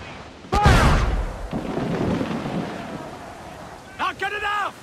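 Cannon fire in the video game Black Flag: a heavy booming blast erupts early, followed by a rumbling tail and layered noise, with a short burst of voices shouting near the end.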